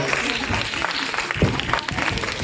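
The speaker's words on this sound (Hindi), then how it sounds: "हम उनके सम्मान में खड़े होकर तालियां बजाएं" Sustained standing applause from an audience at a dance and music festival in Udaipur, dense and fairly loud, a steady wash of clapping with no pause.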